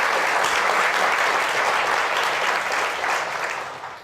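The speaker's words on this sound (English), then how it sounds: "That's applause worthy right there." Sustained audience applause at a talk event at the 92nd Street Y, a dense wash of clapping that stays strong and then fades away at the end.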